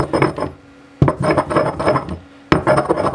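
Powdered watercolor paint being ground, close gritty scraping strokes in three bursts separated by sharp onsets, loud and rhythmic with brief pauses.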